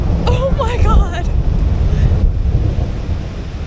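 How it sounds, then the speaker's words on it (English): Deep rolling thunder rumbles under steady rain on an Appalachian Trail hike, the storm loud and close, with a person's voice heard briefly at the start. "Do you hear the thunder? What? Oh my word! It's raining now!"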